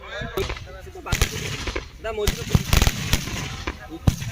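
Firework rockets bursting outdoors at a Baneswar Baba shrine celebration, a series of sharp loud bangs and cracks scattered irregularly, with someone talking continuously over them.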